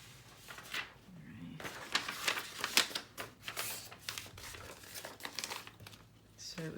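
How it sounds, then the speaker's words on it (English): Scratch paper handled and crinkled at a craft desk beside a We Are Memory Keepers stub punch: a run of close, dry rustles and crackles in uneven bursts, with brief sharper crinkles, and no talking. "Let me get a piece of scratch paper out of here."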